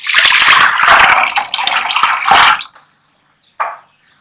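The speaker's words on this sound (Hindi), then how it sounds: "यहाँ पर मैंने एक पॉट ले लिया है, इसके अंदर चने डाल दूंगी पानी के साथ ही" Chickpeas and water are poured into a cooking pot, making a steady, loud splashing rush for about two and a half seconds, then a short silence and one brief splash.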